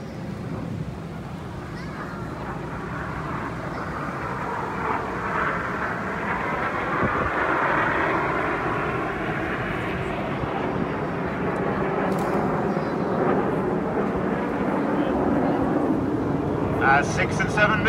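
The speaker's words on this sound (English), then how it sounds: "both aircraft about to barrel roll towards each other in the double roll" Red Arrows jets performing a double barrel roll at an air show, heard as a broad, sustained roar that swells slowly in the distance over continuous commentary.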